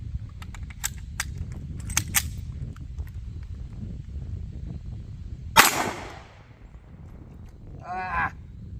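One sharp, loud shot from a Ruger American .45 ACP compact pistol rings out at an outdoor range, standing alone against quiet background rustling and a few faint clicks.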